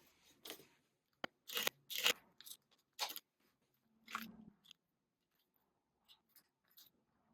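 Heat transfer vinyl is weeded with a tool in short, close, quiet bursts of scratching and peeling, separated by near-silent gaps.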